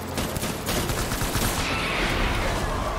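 Rapid bursts of gunfire from the Death Stranding video game rattle in quick succession, dense and steady over about three seconds with no talking.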